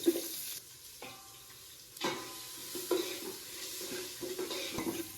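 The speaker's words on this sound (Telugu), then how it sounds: "ఉల్లిపాయలు బాగా ఫ్రై అవనివ్వాలి." Onion pieces fry in oil with biryani spices and green chillies for a veg biryani: a soft, close sizzle broken by intermittent scraping stirs of a spoon against the pan.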